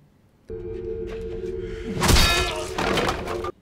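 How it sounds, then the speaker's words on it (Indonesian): An iron bar strikes a man's head in a dramatic film scene: a low sustained drone builds, then a heavy crashing impact hits with a shattering burst and lingering rumble before cutting off. "Lisbeth yang terluka parah memukul kepala Zala dengan besi."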